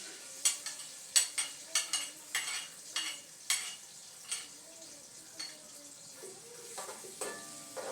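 Onions sizzle quietly in a pan while being stirred, with repeated scraping and clinking strikes of a spoon against the metal in an uneven rhythm, close and fairly faint.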